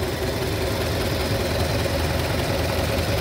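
A 1931 Lincoln K with a 384 cubic inch V8 idles cold, giving a steady, even, dense rumble with no breaks or revving from start to finish.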